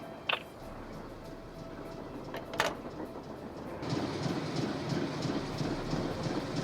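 A train runs in the Nancy Drew game The Last Train to Blue Moon Canyon: a steady rolling rumble with a couple of sharp clanks early on, then a louder, denser clickety-clack of wheels on track.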